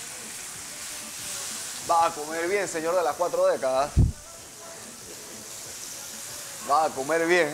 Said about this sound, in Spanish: agarramos la carne, la echamos a sofreír un poco